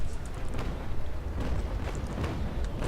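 Naval cannon broadside from sailing warships in the game Naval Action, a continuous heavy low rumble of overlapping booms with scattered sharper cracks, loud and dense throughout with no speech.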